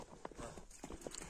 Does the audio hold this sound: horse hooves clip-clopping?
yes